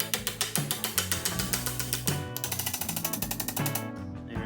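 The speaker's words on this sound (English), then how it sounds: "I gotta tap this metal sleeve out first" A Toyota pickup leaf spring's metal sleeve is tapped out with rapid, evenly spaced metallic strikes, loud and close, in a continuous ratcheting rhythm that slows briefly midway and then picks up again.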